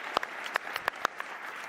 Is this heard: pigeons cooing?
no